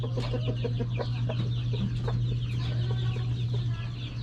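A flock of chickens, including a hen and older Rhode Island birds, clucks and chatters in repeated short calls over a steady low electrical hum, close and continuous.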